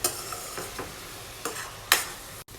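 Egg biryani ingredients fried in a pan until golden and stirred now and then, heard as a soft steady sizzle broken by several scraping stirs, one louder near the end.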